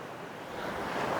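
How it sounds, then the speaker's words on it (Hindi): A mountain river of clear water rushes in a steady, dense roar that swells slightly louder toward the end, with no voices. "देखो पीछे है नदी, खूब सारा पानी, बिल्कुल साफ पानी।"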